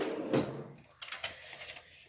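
Bed drawer opened or closed, a short sliding scrape and thump followed by a few light clacks and rattles, close by and fairly quiet with no talking.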